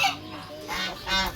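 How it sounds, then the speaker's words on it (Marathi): A goose-like duck (a German breed) calls at a bird park, giving two or three loud, harsh honking calls over about a second and a half, close to the listener, with faint background noise between them. "हे जर्मनीचा बदक आहे सर."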